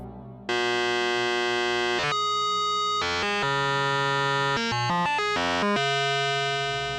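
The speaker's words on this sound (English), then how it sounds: "he calls it metallic noise because it's square waves with ring modulators in between" Schmidt Synthesizer oscillator 4 playing metallic noise from ring-modulated square waves, loud buzzy harmonic tones that jump between pitches in abrupt steps, sustained and alarm-like with no talking.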